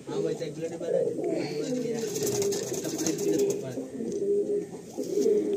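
Pigeons coo in a continuous low chorus inside a loft at Barasat, close by, with someone talking over them.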